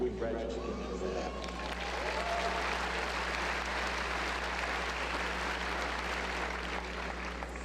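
Sustained audience applause fills a spring commencement ceremony as the top graduates of the class are honored, a dense, steady wash of many hands clapping at an even level throughout, with a low constant hum beneath.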